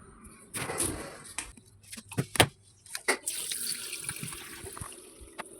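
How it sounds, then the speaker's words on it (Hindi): A home washing machine fills with water, a running, splashing flow that rises and falls with some bumps and clatter, and becomes steadier toward the end. "देखो ये मशीन तो अभी रही है भर"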